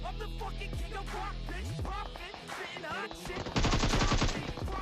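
A squad comes under fire in a battle royale video game: rapid bursts of automatic gunfire mixed with other layered game sound effects, loud and close throughout, growing denser toward the end.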